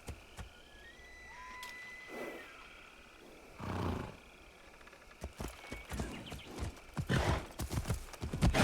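Horse hooves in Assassin's Creed Shadows clip-clop in an uneven patter that grows louder and busier toward the end, with a few synthetic-sounding whooshes and tones mixed in.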